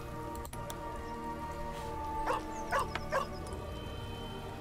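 A dog in Baldur's Gate 3 barks three times in quick succession, moderately distant, over a quiet ambient bed with a steady tonal hum and soft patter.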